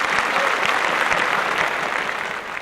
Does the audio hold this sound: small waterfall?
no